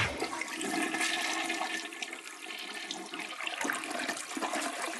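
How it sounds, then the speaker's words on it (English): A toilet flush as a sound effect, a steady rushing swirl of water lasting several seconds, close and fairly loud with no talking. "The Flush."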